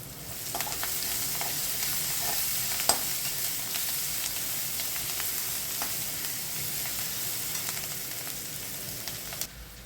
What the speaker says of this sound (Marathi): आलं, लसूण आणि मिरचीचा ठेचा तो घालणार आहोत.